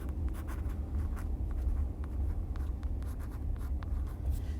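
Pencil or marker scratching across a writing surface in quick, irregular strokes, close and continuous, as handwriting is erased and rewritten during a lesson.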